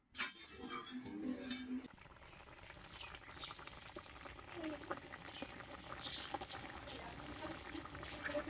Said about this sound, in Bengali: তো দেখো গ্রেভিটা ভালো করে ফুটতে শুরু করেছে